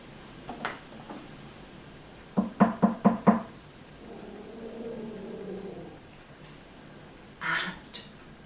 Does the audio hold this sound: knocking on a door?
yes